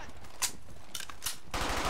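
Gunfire in the World War II shooter Brothers in Arms: Hell's Highway: a few sharp, separated shots followed by a heavier, sustained burst at the end, loud and close.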